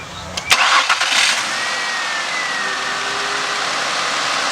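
A car engine cranks briefly and catches, then settles into a steady, even idle that continues close by to the end.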